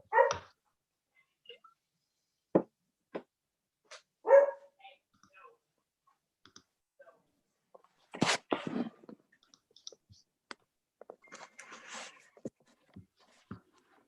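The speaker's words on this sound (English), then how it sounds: "may hear my dog in the background" A dog barks in sharp, scattered bursts from nearby, with quiet gaps between, some barks louder than others.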